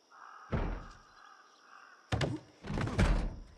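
A zombie bangs on a door in the video game Project Zomboid: heavy, close thuds and a few rapid slams against the wood, loud and booming, with short pauses between the blows.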